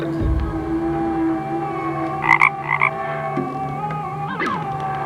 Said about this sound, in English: Use the clicker frog.